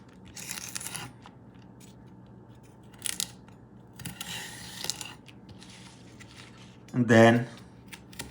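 Thick stems being cut from collard greens with a brief crisp snip and tearing sound near the end, preceded by soft handling rustles and a short spoken phrase.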